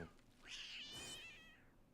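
A cat meows in the Yu-Gi-Oh Master Duel card game, one drawn-out, wavering cry rising and falling over about a second and a half, clear and close with no talk.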